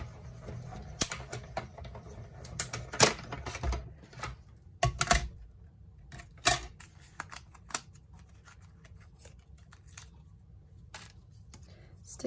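A mini die-cutting machine is cranked by hand during card making, giving irregular clicks, ratchety knocks and a few sharper clacks spread across the stretch, with no talk.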